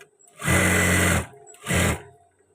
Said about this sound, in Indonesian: kita jahit pas bagian lengannya. Kita paskan.